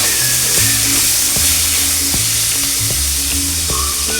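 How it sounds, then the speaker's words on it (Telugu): Tomato pieces for drumstick curry sizzle loudly and steadily in hot oil with continuous crackle and a few stirring scrapes, while a tonal melody plays underneath. "టమాటా ముక్కలు కూడా బాగా వేయించుకోవాలండి."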